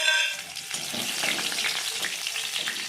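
Green chillies frying in hot oil in a wok make a dense, steady sizzle with crackly spitting and light stirring, close up and without voices.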